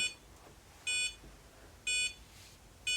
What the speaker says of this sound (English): So it's beeping like it's trying to connect to the Bluetooth,